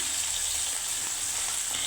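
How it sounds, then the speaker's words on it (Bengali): Small carp fish frying with mustard and onion in a pan, giving a steady, close, hissing sizzle throughout with no talking. "মাছটা একটু হালকা বেশি কড়া করে ভাজা যাবে না"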